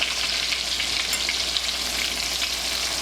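Frikadeller meatballs sizzle and spatter steadily in a hot frying pan, a constant close crackle with no talking over it.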